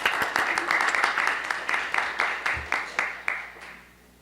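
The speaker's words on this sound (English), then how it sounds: "a big round of applause" Audience applause at a panel event on mental illness stigma, a full burst of clapping that thins into a few separate claps and fades out near the end.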